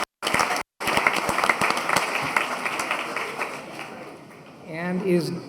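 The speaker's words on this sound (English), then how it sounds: "Round of applause." A meeting audience applauds after a state representative is introduced, with dense clapping after a brief break near the start that fades toward the end, where a voice starts to talk.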